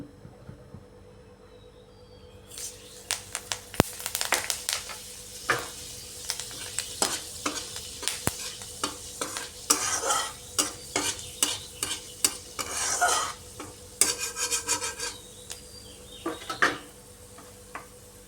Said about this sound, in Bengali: ফোড়নে দিয়ে দিচ্ছি শুকনো লঙ্কা আর মেথি।